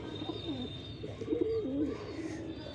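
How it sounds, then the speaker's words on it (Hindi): A pet pigeon cooing close by, soft low rolling coos repeated a few times over a faint steady background hum. "देख लो ये कबूतर है"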